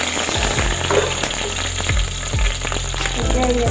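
Whole spices and bay leaves with green chilies sizzle and crackle in hot oil while being stirred, a steady loud frying hiss with rhythmic scraping strokes throughout.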